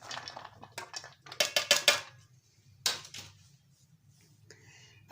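Ingredients for pakoras are tipped into an open metal basin, giving a series of close metallic clatters and scraping clinks in bursts, then quieter handling noises.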